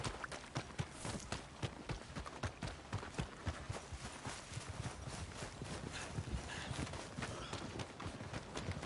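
A Red Dead Redemption 2 horse's hooves thud in a quick, even trot, close and continuous, over a busy ambient background with no clear speech.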